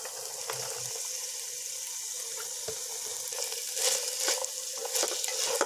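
Vegetables are stirred into chicken in a pan for a macaroni dish, with a steady hissing sizzle and scattered clinks and scrapes of a spoon, close by and growing livelier toward the end, with no voices.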